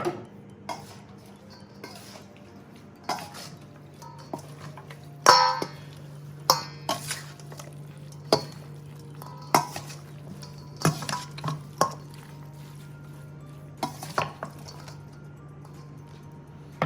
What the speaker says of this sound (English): And then give it a nice gentle toss.